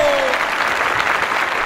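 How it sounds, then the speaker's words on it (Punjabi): Dense, steady applause from an audience watching a staged fight between Bali and Sugriv, loud and continuous for the whole stretch, with a brief tone sliding down at the very start. "ਤਾੜੀਆਂ।"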